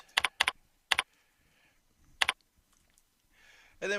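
Keystrokes on a computer keyboard while writing an email subject line: a few sharp, close taps in small clusters separated by quiet gaps, with faint rustling toward the end.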